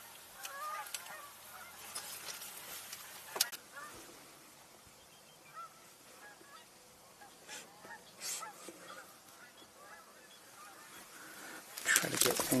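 Repeated overlapping honks from a flock of Canada geese in an open outdoor setting, some calls close and strong, others farther off, continuing throughout with a louder, busier burst near the end.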